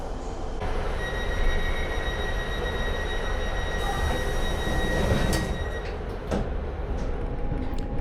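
A train departs from Shrewsbury, heard from inside a carriage: a loud, steady rumble of wheels on track with high wheel squeals and rattles.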